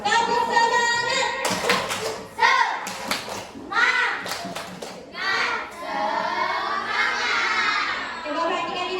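Schoolchildren in a classroom clap out a rhythmic spirit cheer in bursts, sharp claps in quick patterned runs mixed with loud shouting and chanting kids' voices, close and lively with brief pauses between rounds.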